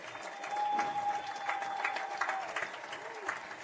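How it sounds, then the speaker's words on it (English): A stadium crowd at a high school football game applauds the 2011 Girls Class 4A State Champions, a steady wash of clapping lasting several seconds, with a faint tone and some voices mixed in. "Let's give a big round of applause for our 2011 Girls Class 4A State Champions."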